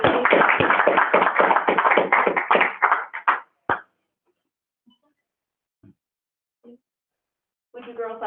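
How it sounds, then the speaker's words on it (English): Brief applause for award winners at a school board meeting, a quick flurry of claps for about three seconds that fades out, followed by near silence with a few faint noises and a voice at the end. "a big round of applause for our winners"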